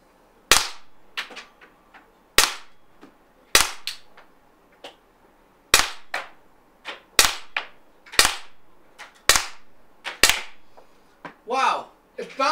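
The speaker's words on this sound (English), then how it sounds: "So we're going to shoot at 15 feet." A RAM combat pistol fires rubber balls at a 15-foot target, eight sharp, loud cracks at irregular one-to-two-second intervals, each with a short ringing tail, followed by a softer rustle at the end.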